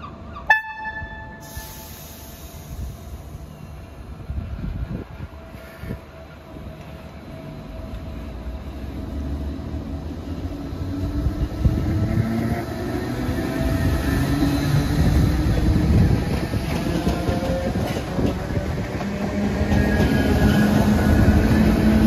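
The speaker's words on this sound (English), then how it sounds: "You can hear how quiet those 8300 cars are." A Dublin commuter train made up of non-powered 8300 series cars rolls past on a warm sunny day. A horn sounds at the start, then the rumble and wheel noise build steadily as the train nears and passes close by.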